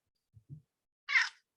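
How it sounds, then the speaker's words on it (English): A pet cat gives two soft low grunts followed by one short, sharp squawking meow, close and clear against silence. "If you hear my cat being demanding here, you'll hear that little squawk."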